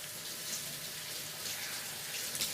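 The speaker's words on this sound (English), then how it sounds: "I'm gonna wash my hands real fast." A kitchen tap runs steadily as sticky frosting is washed off hands, a close, even hiss of flowing water with no break.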